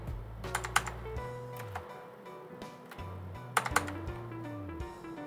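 Fingers type on a computer keyboard in short bursts of quick, close clicks with brief pauses, while a low electronic hum sits underneath.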